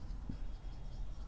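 Chalk or marker scratches briefly across a classroom board while month names are written, a short faint stroke against a quiet room hum.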